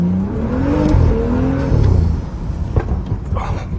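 A BMW 335i tuned to Stage 2+ accelerates on the road, its engine note rising and falling loudly up close, followed by a few sharp exhaust pops and crackles near the end.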